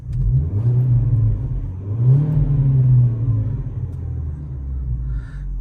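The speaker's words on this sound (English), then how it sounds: "I'll give it a rev" A 2004 Audi A4 1.8T convertible with a sports exhaust idles with a deep rumble, then revs twice in swelling bursts before settling back to a steady, throaty idle nearby.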